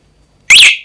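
A single short, loud electronic beep from a motorcycle alarm chirps sharply out of near silence and fades quickly.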